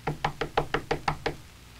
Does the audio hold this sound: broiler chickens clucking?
no